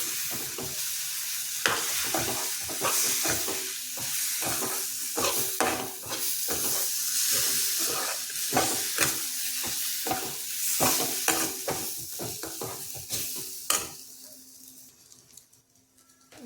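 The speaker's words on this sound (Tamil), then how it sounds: "இந்த அரைச்சி வச்சிருக்க வாழைப்பழத்தையும் இதோட சேர்த்துக்குவோம். இதையும் நல்லா 1 நிமிஷம் கிண்டி விட்டுக்குவோம்" A mashed banana mixture sizzles in a pan while a spoon stirs it, with repeated scraping strokes over constant frying hiss that fades toward the end.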